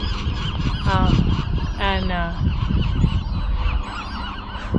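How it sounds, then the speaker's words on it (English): A dense chorus of seagulls at a nesting colony on Anacapa Island, harsh repeated honking cries over a loud, continuous background of wind and rumble. "But look at all the seagulls. They're nesting"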